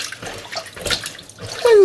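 Lemon pieces stirred gently in a pot of water with prawns, giving a close, continuous sloshing and swirling of water.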